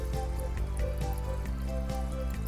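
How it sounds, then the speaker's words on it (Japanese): Water bubbles and trickles through the filter of a red-eared slider turtle tank, with soft repeated drips and gurgles over a steady background hum. "これはフィルターの中を水がしっかり通っている証拠です。"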